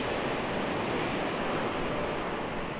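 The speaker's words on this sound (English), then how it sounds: "The coast is a marvelous place with majesty, power, fascinating creatures, and waves. Lots and lots of waves." Waves on the Oregon coast make a continuous, dense roar of surf that stays loud and even throughout, with no voices over it.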